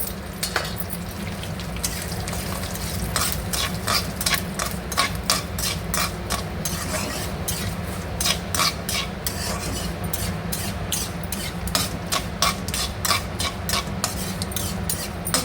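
Spices for fresh coconut podi fry in a pan with turmeric, a close dry sizzle broken by rapid, rhythmic scraping and stirring of a spatula against the metal, continuous and without speech.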